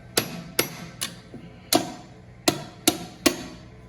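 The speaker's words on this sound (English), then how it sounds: "Now I'm just using a piece of 3/8 round stock as a punch for this." A hammer strikes a 3/8 inch round stock punch while removing the shaft-mount motor from an Ammco brake lathe, giving seven sharp, close metallic blows in an uneven rhythm over about four seconds.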